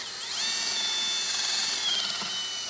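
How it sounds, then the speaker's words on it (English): A power drill whines steadily and close up as it bores out a battery cable terminal during a battery disconnect install on a 2018 Ford Edge. The high motor pitch holds level, then dips slightly as the bit bites, with no talk. "we're just going to drill this out a little bit to make room so it will go over our post"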